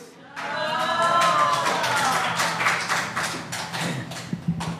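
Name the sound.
audience applause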